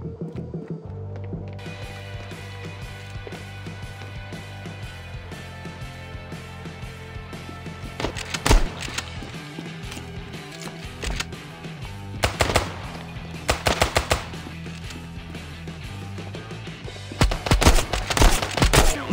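Gunfire in the mobile shooter Standoff 2 comes in several sharp bursts and single shots over a continuous low in-game hum, with loud clusters near 8, 12 and 17 seconds.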